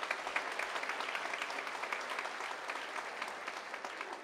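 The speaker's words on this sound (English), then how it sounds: "Let's give him a round of applause" Steady audience applause at a university commencement ceremony in a large hall, even dense clapping heard from a distance at moderate volume, no voices over it.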